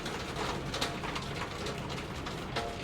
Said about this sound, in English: Clearly, we're getting a great deal of rainfall.